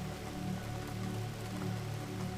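Steady rain patters continuously on a surface, a dense even hiss of drops with no voices, close and moderately loud throughout.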